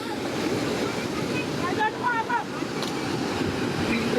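Rough sea surges off Kochi, Kerala, a continuous heavy wash of waves mixed with wind noise, while voices call out faintly in the middle.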